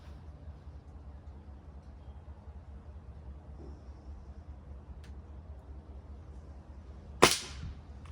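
A Gamo Magnum .22 Gen 2 break-barrel air rifle fires once, a single sharp crack with a short ringing tail, standing out alone against a quiet, steady outdoor background.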